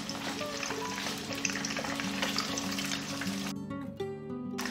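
Battered salt and pepper prawns fry in hot oil, a dense, steady sizzle with bubbling crackle close up, alone with no talking.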